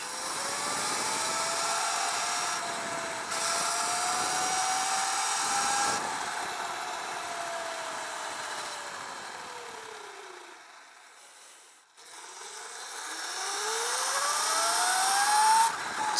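A Sur Ron Light Bee electric dirt bike motor fitted with a KO F-Spec motor and controller whines at max power, wide open, its pitch sweeping up and down with a brief dip before rising again loudly.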